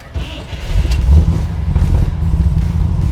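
A 1969 Chevrolet Camaro Double COPO with chambered exhaust fires up close by. A brief start is followed by a deep, loud, rumbling idle that holds steady, with no talk.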